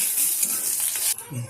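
Onion fries with whole spices in a hot pan, a bright close sizzle that cuts off sharply near the end, followed by a brief soft murmur.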